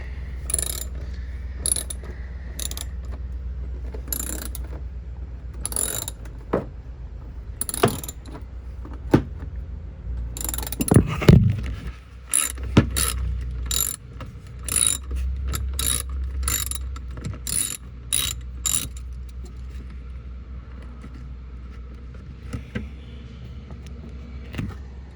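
A ratchet unscrews a headlight bolt on a 2014 Chevy Equinox, giving bursts of close, sharp pawl clicks in quick runs separated by pauses, with some metallic clatter and low background rumble.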